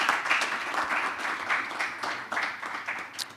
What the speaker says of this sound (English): Yes, let's applaud them.